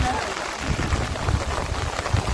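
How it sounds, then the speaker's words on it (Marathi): Rain falls steadily during a hillside trek to Nageshwar near Choravane, Ratnagiri, a constant close patter of drops with a voice talking over it. "त्यामुळे चांगलाच पाऊस आला आहे."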